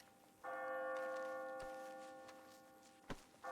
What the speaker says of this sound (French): les sons de cloche